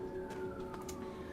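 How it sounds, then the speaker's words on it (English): A fire station siren wails, rising and falling in the distance, steady and tonal, with faint background noise. "excuse the siren if you guys can hear it"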